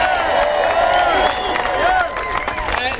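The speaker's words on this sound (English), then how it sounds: "Give yourselves a round of applause, really." Rally crowd in Washington DC applauding and cheering outdoors, a dense wash of clapping and voices with whistles rising above it, loud and sustained for a few seconds.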